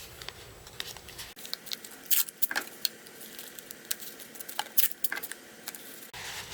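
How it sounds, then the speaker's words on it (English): Plastic bottles are taped together with short strips of tape, giving off crinkly tearing and rubbing sounds with scattered sharp clicks and rustles. The handling noise is close by and there is no talking. "you need to tape the bottles together"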